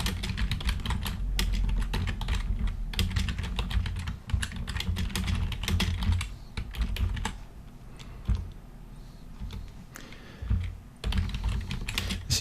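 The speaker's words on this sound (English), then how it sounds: "So I'll type in the source code, which is also on a slide" Continuous rapid typing on a computer keyboard while entering C++ source code in Visual Studio 2017, dense clacking keystrokes close to the mic with brief pauses, no talking.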